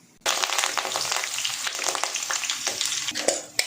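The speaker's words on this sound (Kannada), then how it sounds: "ಮೆಣಸಿನ್ಕಾಯಿ ಮತ್ತು ಕರಿಬೇವು ಹಾಕ್ತಾಯಿದ್ದೀನಿ" Chillies and curry leaves hit hot tempering oil for a pickle made from bamboo shoots, bursting into a loud, dense sizzle that starts abruptly and keeps crackling steadily, with a few sharper spits near the end.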